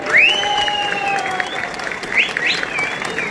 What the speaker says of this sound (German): Gebührt Ihnen der Applaus aller Teilnehmer